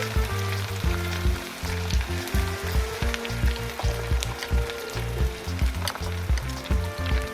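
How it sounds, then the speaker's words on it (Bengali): Chicken pieces deep-frying in hot oil in a wok, giving a steady, dense sizzle and crackle throughout, with a rhythmic musical backing running underneath. "এবার উল্টে পাল্টে খুব ভালো করে ভেজে নেব।"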